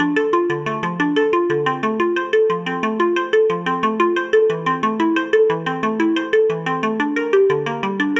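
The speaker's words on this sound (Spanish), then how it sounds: "utilizamos lo que es el arpegiador. Tenemos esto y nos va a generar estos arpegios de forma rápida" Fast synthesizer arpeggios from a software arpeggiator, bright plucked notes cycling steadily up and down in a repeating rhythmic pattern, loud and continuous with no voices.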